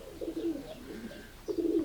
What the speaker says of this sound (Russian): Вот этот синий голубь.